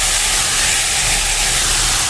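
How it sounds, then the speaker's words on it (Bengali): Chicken pieces sizzle in hot oil left over from frying onions for beresta, a continuous bright hiss and crackle, close and loud, with no voices. "এখন দেখো এই বেরেস্তা ভাজার তেলের মধ্যে কিন্তু আমি চিকেনগুলোকে দিয়ে দেবো"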